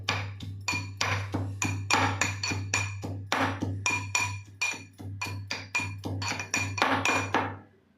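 Herb leaves are pounded to draw out their green juice, a steady run of sharp, ringing strikes in quick rhythm with a metallic clink on each blow, close and fairly loud, fading out at the end.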